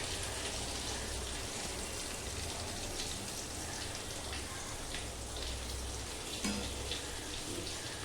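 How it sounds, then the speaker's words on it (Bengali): Chicken cheese balls frying in hot oil give off a dense, steady crackle and bubbling hiss, close and constant throughout, like light rain pattering. "ভাজাটা দেখেছো, ভাজাটা সুন্দর হচ্ছে।"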